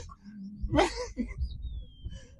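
A single sharp human sneeze bursts out near the mic on a front porch in New Orleans. It is brief and close and stands against quiet background noise.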